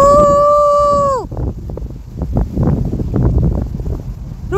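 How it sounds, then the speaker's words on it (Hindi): Wind gusts across an outdoor microphone, making a low, buffeting rumble that rises and falls unevenly. It follows a brief, steady tonal whine that drops away at the start. "बाबा हवा चल रही है"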